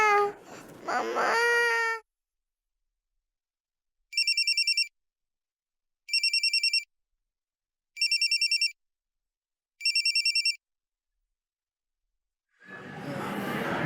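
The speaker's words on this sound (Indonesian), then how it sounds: "ini istri aku telepon" A phone ringtone for an incoming call chirps in four short, evenly spaced bursts after a child's brief whimper at the start, with a burst of noise returning at the end.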